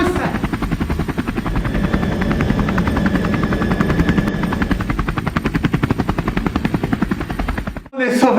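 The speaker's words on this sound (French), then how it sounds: "Oh, regardez! L'hélicoptère!" A helicopter in a horror video game thrums loudly and steadily for about eight seconds, its rotor chop a dense rapid pulse close by, before cutting off abruptly near the end.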